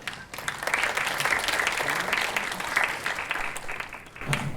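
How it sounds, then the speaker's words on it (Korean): A lecture-hall audience gives a sustained round of applause to welcome a professor, a dense, even crackle of many hands clapping that fades out near the end. "교수님을 박수로 환영해 주시기"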